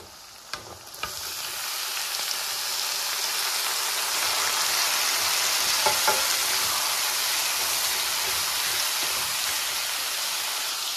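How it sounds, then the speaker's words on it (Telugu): Snake gourd pieces fry with dried prawns in a pan, making a loud, steady hiss of oil sizzling close by, with a few stirring knocks at the start. "ఇప్పుడు మనం కట్ చేసి పెట్టుకున్న పొట్టకాయ ముక్కలు కూడా వేసేద్దాం దానిలో"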